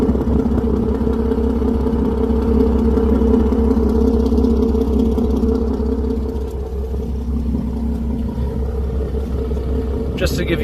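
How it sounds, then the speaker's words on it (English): Steady low engine rumble of a Ford Mustang idling through Borla long tube headers, a deep even drone with slight throb, continuous for the whole stretch with no talking. "let me show you the exhaust at idle"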